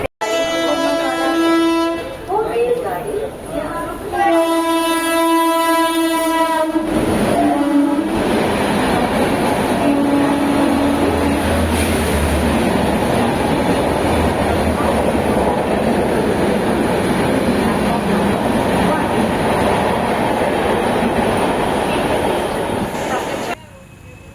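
Arakkonam fast local EMU electric train sounding two long, loud horn blasts, then a steady, close rumble of the moving train that carries on to the end.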